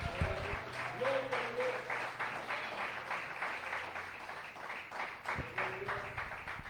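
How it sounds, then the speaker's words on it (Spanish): A church congregation claps for the Lord during a pastor's sermon, lively rhythmic applause filling the room with some voices mixed in. "¿Cuántos aplauden al Señor?"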